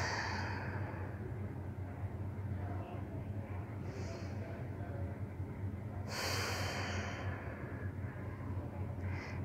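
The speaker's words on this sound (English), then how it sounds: "Let's take a few deep breaths." A group gathered at a church children and youth service takes slow deep breaths together, a soft airy inhale and exhale rising around the middle over a steady low hum.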